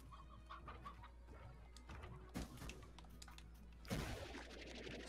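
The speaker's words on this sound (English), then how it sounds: "Over here there were stony chickens." Stony chickens in a video game give soft, scattered clucks at low volume. Clicks and brief louder noise bursts occur among them.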